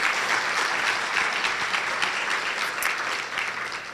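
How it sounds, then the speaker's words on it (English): A luncheon audience at a Shelter House Changing Lives benefit gives sustained, dense applause that stays loud and even throughout and thins slightly toward the end. "give yourselves a round of applause"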